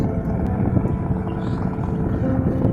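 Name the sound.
passenger launch boat passing on the river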